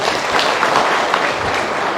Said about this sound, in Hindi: एक बार ताली बजा सकते हैं लोगों के लिए?